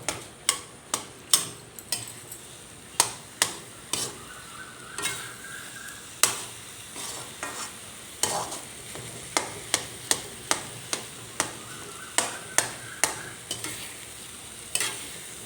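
A spoon repeatedly scrapes and taps a wok as ground almond paste roasts with a soft sizzle underneath. The sharp, close strokes come at a fairly regular pace throughout, and no one speaks.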